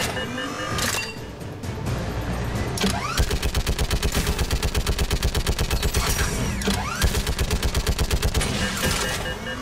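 Turret gunfire in the video game Mass Effect 3 blasts as loud, rapid automatic bursts that run almost without pause for several seconds, with someone talking over the shooting.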